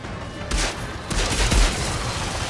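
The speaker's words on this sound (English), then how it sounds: "Oh, this is a single fire assault rifle." Gunfire from the video game Outriders, with a dense burst of overlapping shots and booming impacts amid busy game combat noise, loud and continuous.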